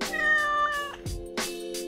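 A domestic cat meows twice, a drawn-out tonal call followed by a shorter second meow, both close and clear with no talking.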